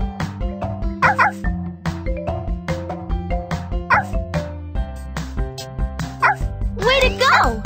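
Cartoon puppies in a Dora the Explorer video game yip and bark in short bursts over bright, steady game music, with a voice counting along between the yaps.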